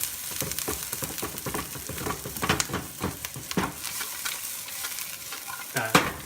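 Food being sautéed in a pan for a Kapampangan dish, with a constant sizzle and repeated clattering stirs and scrapes of a spatula heard up close, with no talking.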